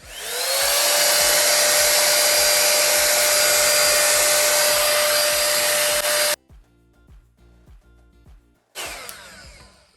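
An AliExpress copy of a Dyson Airwrap hair styler blows air with a loud, steady whooshing roar and faint motor whine for about six seconds, then cuts off to quiet handling noises before briefly starting again.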